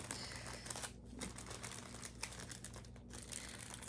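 Crinkly plastic packaging around a small handmade keychain party favor being handled and wrestled with up close, a steady dense rustling with brief louder crackles and no talking.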